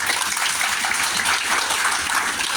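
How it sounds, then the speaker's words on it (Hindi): A crowd gives a loud, sustained round of applause for a woman being honoured at an event, a dense wash of clapping holding steady and continuous throughout. "मैडम के लिए एक जोरदार ताली बजाइए"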